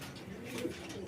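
Young local domestic pigeons cooing in soft, low, throaty calls, fairly quiet and close, over a brief stretch with light background noise.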